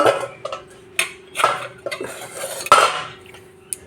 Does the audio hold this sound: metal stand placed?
yes